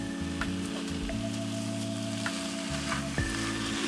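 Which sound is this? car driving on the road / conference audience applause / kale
kale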